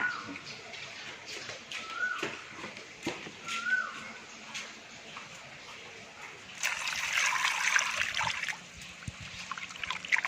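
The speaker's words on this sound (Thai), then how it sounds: "อันดับแรกเบลเอาหมึกไปล้างนะลูก" Fresh egg squid rinsed by hand in a basin of water, with soft trickles, sloshes and splashes that grow into a louder, steady run of splashing water near the end, and faint chirps in the background.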